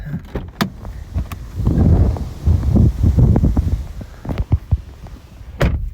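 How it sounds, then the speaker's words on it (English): Gusty wind buffets the microphone in low rumbling surges, with scattered thumps and rustles, loud and close throughout, on a windy, rainy day. "it's windy and rainy"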